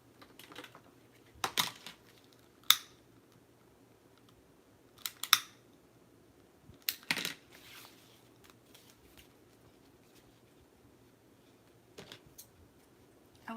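Scissors cutting ribbon ends into a V shape while making a hand-tied hair bow: crisp, quiet snips in short clusters separated by pauses, close by with no talking.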